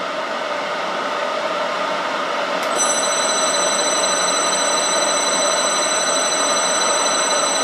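A metal lathe turns an AR-15 barrel blank at a slow 90 RPM, giving a steady mechanical whir and hum, joined partway by a high, thin whine of sustained tones that stays constant to the end.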